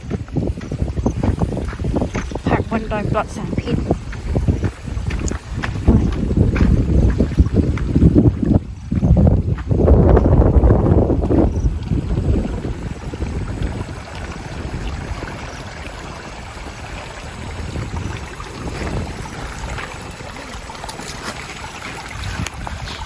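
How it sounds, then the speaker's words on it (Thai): Strong wind buffets the microphone in an orchard, heavy rumbling gusts that swell in the middle and then ease to a steadier rush, with a few brief spoken words. "ลมแรงมาก"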